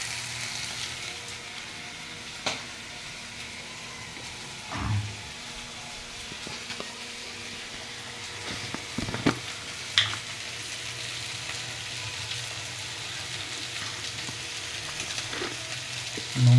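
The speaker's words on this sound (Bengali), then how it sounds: "নুনটা দিয়ে মশলাটা মানে সবজিগুলো একটু ভেজে নেবো ভালো করে" Vegetables fry with salt in a pan, a low steady sizzle heard close, broken by a few light knocks and scrapes of stirring and a louder clatter at the end.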